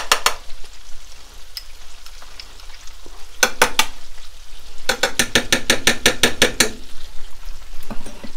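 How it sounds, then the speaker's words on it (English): Minced garlic sautés in melted butter in a saucepan: a low, steady sizzle broken by two bursts of rapid, rhythmic scraping strokes, close and fairly loud, with no talk. "You're going to add that to the melted butter, and you're going to get that sauteed up"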